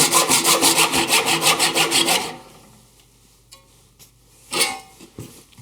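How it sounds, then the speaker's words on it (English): A hand saw cuts a half lap joint in wood for a trestle table, a dozen or so quick rhythmic rasping strokes, close and loud, then stopping, followed by a few scattered knocks and one more short scrape. "Sawing right down the line there"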